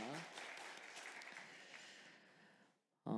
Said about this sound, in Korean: 우리 서로 수고하신 분들을 위해서 격려로 박수하면 좋겠습니다